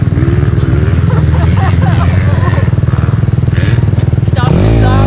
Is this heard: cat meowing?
no